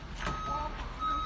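A truck's reversing alarm sounds outdoors at a moderate distance, giving a few steady electronic beeps over low traffic rumble.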